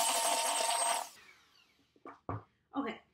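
Electric mixer giving cookie dough for red, white and blue pinwheel cookies a quick mix in a bowl, a loud whirring burst of about a second that cuts off and is followed by a few clunks and handling sounds.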